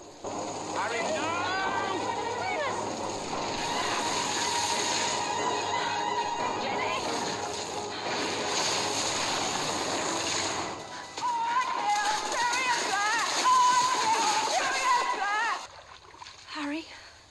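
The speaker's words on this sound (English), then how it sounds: "the sound of that water is so creepy" Water splashes and sloshes in a dark Harry Potter and the Half-Blood Prince film scene, a continuous churning wash under eerie music and voices, swelling louder in the final seconds.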